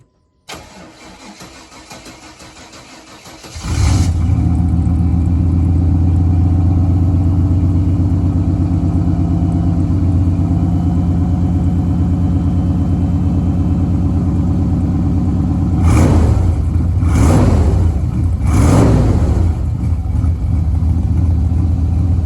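A 1995 first-generation two-door Chevy Tahoe with true dual exhaust and rusted tips fires up after a few seconds of quiet, then settles into a loud, steady, slightly rough idle with a few brief revs near the end.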